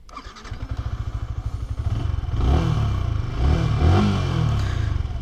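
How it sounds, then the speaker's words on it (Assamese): Yamaha R15 MotoGP edition 150cc motorcycle starts with a rapid cranking rattle, then the engine catches and revs loudly twice, close by with no talk. "Now I will tech the taste ride of this মাইটি R15 MotoGP addition."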